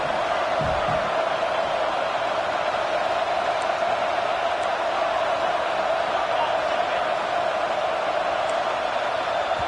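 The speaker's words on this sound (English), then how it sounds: "with this place rocking, the crowd forces a false start" A packed stadium crowd at a football game keeps up a steady, loud, unbroken roar with no pauses or swells.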